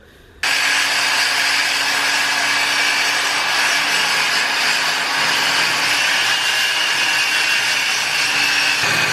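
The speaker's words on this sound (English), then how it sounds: "Using big worm drive saw here with a metal blade, just running down that straight edge" A worm drive saw with a metal blade starts abruptly and rips aluminum sheet along a straight edge in one long, loud, steady whining grind close by, with no pauses or voices.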